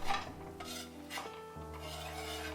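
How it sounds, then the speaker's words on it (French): Chopped vegetables tipped into hot oil in a large pan for vegan bolognese cannelloni, giving a soft sizzle with utensil scraping and stirring clatter against the pan, close and fairly quiet throughout. "Dans une grande poêle, je verse de l'huile, et quand le tout est chaud, j'y verse tous mes légumes."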